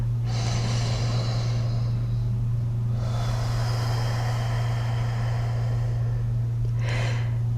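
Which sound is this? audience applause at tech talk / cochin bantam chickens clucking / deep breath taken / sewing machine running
deep breath taken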